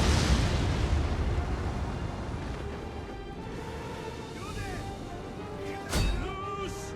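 Ballista bolts striking skirmisher units in Total War: Rome 2, Caesar in Gaul: a rumbling roar of battle noise fades down, then a sharp thudding impact lands near the end amid distant clatter.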